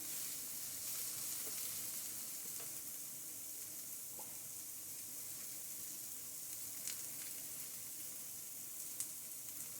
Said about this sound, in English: I'm going to let these onions get nice and brown and crisp.